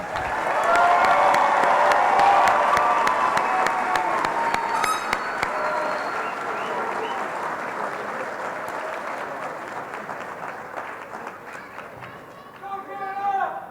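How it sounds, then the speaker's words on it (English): Graduation ceremony audience applauding the graduates, loud dense clapping that gradually thins and softens over several seconds, with voices starting to talk as it dies away. "one more round of applause for our graduates"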